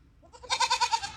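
A goat bleats once close by, a short wavering cry of several rapid pulses, with no other sound around it.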